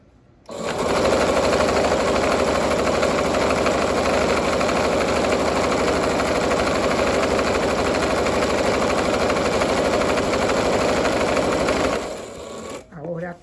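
A sewing machine stitches the pocket of a pair of shorts, a loud, steady mechanical whir running continuously for about eleven seconds before stopping.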